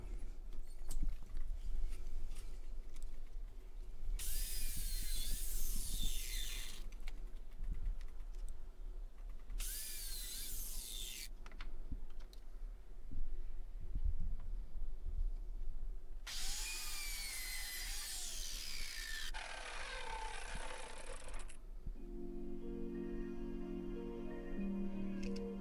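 A miter saw cuts angled pieces from scrap wood for a bird house box, with three loud, whining cuts of a few seconds each, separated by quieter workshop noise, and a drop in pitch as the blade winds down at the end.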